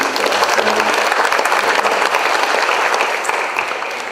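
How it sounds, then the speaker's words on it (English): Steady, loud applause from a gala dinner audience honoring the International Indonesian Book Fair committee, dense and continuous throughout, easing slightly toward the end. "let's give a big applause to the committee."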